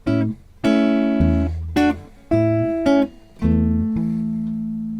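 Clean guitar melody notes plucked over short, dampened bass notes, played in separate phrases with brief pauses between them.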